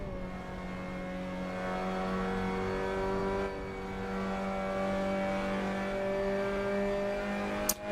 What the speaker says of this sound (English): The Miata does sound good.